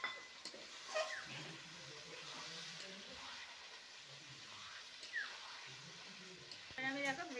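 Masala sizzling steadily in a pan after water is poured in, a soft, continuous frying hiss with occasional louder crackles, while someone speaks over it.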